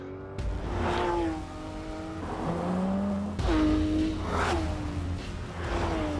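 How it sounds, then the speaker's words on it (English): A sports car with a naturally aspirated 4-litre flat-six engine drives hard, revving up through the gears with clear shifts between pulls. The engine note is loud and close, rising and dropping repeatedly, and no voices are present. "Straight away, I can tell you the engine is incredible. There's no turbocharging, it's just a 4-litre flat 6"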